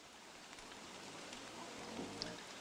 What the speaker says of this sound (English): I mean, the rain is stopping soon.